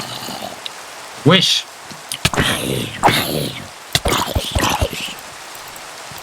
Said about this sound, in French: En fait, on a un biome, il pleut juste à côté.